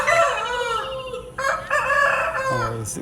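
Close, loud crowing from a Thoorpu (Bhimavaram) breed fighting rooster, about fifteen months old and two kilograms, delivered as a long drawn call broken by short gaps, with a brief extra squawk near the end.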